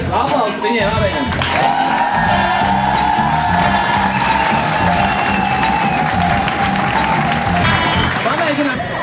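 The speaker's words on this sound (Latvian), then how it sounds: "Aplausi viņiem abiem." Audience applauding backstage at a Cīņas Klubs fight event, sustained loud clapping mixed with cheers and whoops, a dense continuous crowd roar that swells at the start and holds throughout.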